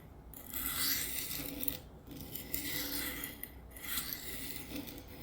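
Knife edge drawn across a coarse 100-grit aluminum oxide stone to cut off a heavy burr, a steady rasping rub in a few long strokes with brief pauses between them, close and fairly loud, no talking.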